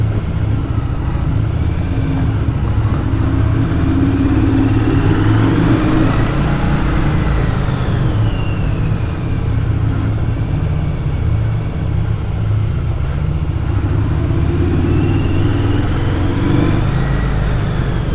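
A 1982 Yamaha Virago motorcycle engine runs steadily up close, a low continuous rumble that rises and falls with gentle revving, with no talk over it.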